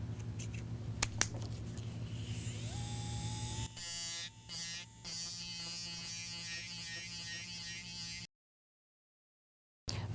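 Rotary dental polisher with a medium grit working a zirconia-reinforced lithium silicate block, a thin electric whir with buzzing contact bursts, steady and fairly close, then a sudden silence.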